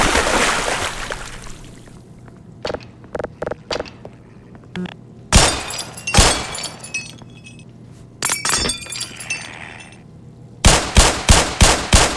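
Gunfire in the game Black Mesa, a Half-Life remake: scattered single shots and sharp cracks with glassy clatter, then a rapid burst of evenly spaced shots near the end, loud and close between quieter gaps.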